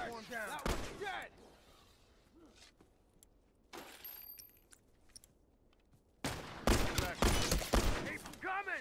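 Rifle gunfire in a video game: a sharp burst early on, another short volley midway, then dense, loud rapid shots crackling through the final seconds.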